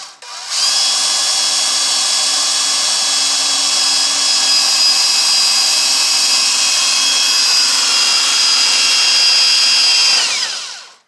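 A power drill spins continuously at high speed while driving wood-to-metal screws into metal for a bus build, a loud, close, steady whine lasting about ten seconds before winding down, with no talking.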